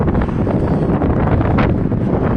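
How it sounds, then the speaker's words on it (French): Strong wind blows across a high pedestrian overpass near an airport, a loud, buffeting roar battering the microphone in gusts throughout, with no voices. "And it's very windy up here right now."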